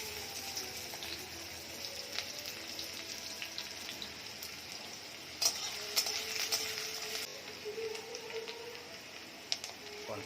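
Onion frying in mustard oil, a soft steady sizzle with occasional sharper crackles and clinks of a utensil, fairly faint and close.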